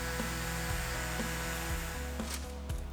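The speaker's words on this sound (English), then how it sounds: "Now use an orbital sander, sandpaper or sanding pad to dry sand the surface." An orbital sander dry sands a car body surface during repair work, a steady close whirring drone with faint pitch shifts as it moves across the panel, no talking.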